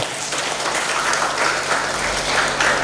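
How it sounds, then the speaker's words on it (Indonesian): Sustained applause from a crowd at a nursing diploma graduation and oath-taking ceremony, a dense continuous roar of many hands clapping, even and full throughout. "Tepuk tangan dulu"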